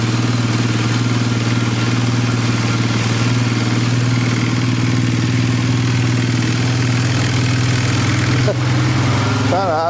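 A trashed Polaris 325 Magnum four-wheeler engine idles roughly with a loading-up carburetor, a loud steady low drone with clattery texture throughout and a slight shift in tone near the end.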